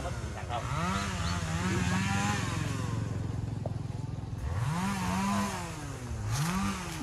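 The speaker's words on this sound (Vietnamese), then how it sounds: "Một chút anh Sang và nhóm sẽ cưa như thế nào, xin mời cả nhà cùng theo dõi nha" A chainsaw cuts into a large dầu gió tree outdoors, its engine close and loud, droning steadily and then revving up in repeated surges as it bites into the trunk.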